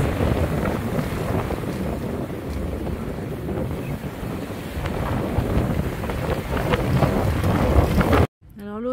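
Strong wind flapping an old, torn mainsail on a sailboat at sea, heard as continuous gusty rumbling and fluttering with wind buffeting the microphone, before an abrupt cut at the end.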